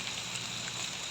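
Dense rain drums steadily in a continuous wash of noise, close and even throughout the short stretch.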